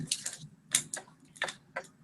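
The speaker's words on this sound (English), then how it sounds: "Sorry, I was typing." Someone typing on a computer keyboard during an online meeting: a few separate clicky keystrokes in small irregular bursts, close and fairly quiet, with no talk over them.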